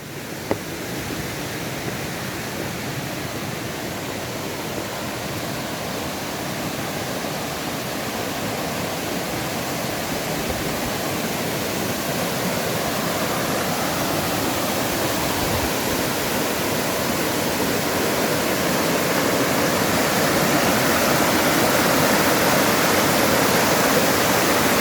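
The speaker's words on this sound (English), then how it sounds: "those rapids are really cool, huh?" River rapids in the Brazilian savanna during peak dry season rush in a dense, steady broadband roar that grows slightly louder over time, with no voices.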